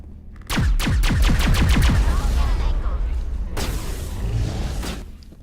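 A rapid burst of about a dozen loud, close shots comes from a deployable turret in Mass Effect 2. A second, shorter burst follows after a pause, and game ambience fills the space between them.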